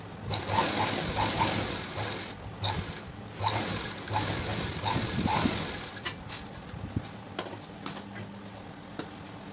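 A sewing machine stitching a princess cut blouse gives off a steady, fast mechanical whir and rattle in bursts, with brief pauses and clicks between runs, close and fairly quiet with no talk.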